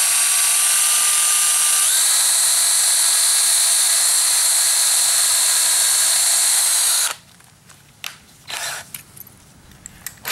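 A power drill drives a screw into the wooden beam of a window frame for Christmas lights, whining loud and steady for about seven seconds with a pitch change partway through, then stopping, followed by light handling clatter.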